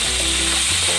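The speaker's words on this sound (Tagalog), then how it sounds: "Dito sa kawali, kung saan tayo na pan-fry, dito na rin tayo mag-gisa." Chicken and pork sauté in a frying pan, a loud, dense, close sizzle that stays steady through the whole short moment, with a low hum underneath.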